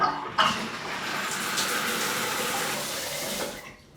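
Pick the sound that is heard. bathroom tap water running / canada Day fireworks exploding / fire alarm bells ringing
bathroom tap water running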